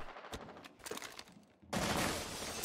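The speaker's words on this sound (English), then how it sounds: "Stop shooting!" Gunfire in the Rainbow Six video game: a few scattered sharp shots, then a loud, sustained burst of rapid fire taking over abruptly in the final second.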